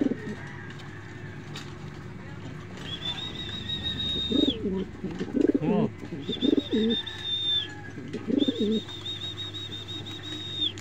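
A pet bird coos repeatedly in a series of soft rhythmic phrases, with a few higher chirps, while people talk nearby.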